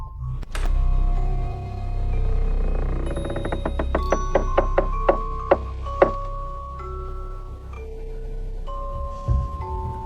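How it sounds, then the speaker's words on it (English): In a film scene, a series of about six sharp knocks on a door lands at an even pace over a low rumbling background with sustained musical tones, and no one speaks. "She knocked on the door several times but received no answer."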